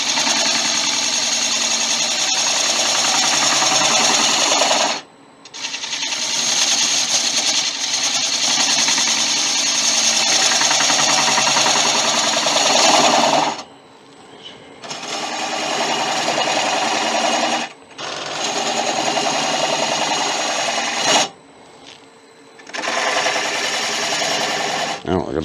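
A wood lathe turns an end grain bowl, the gouge making a loud, steady scraping whine in long continuous stretches broken by several brief pauses.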